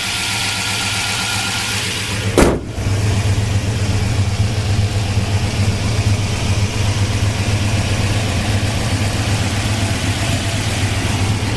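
A 1971 Dodge Charger big block V8 idles steadily with a deep, even rumble close by, briefly interrupted by a single sharp knock or thump early on before settling back into a smooth, continuous idle.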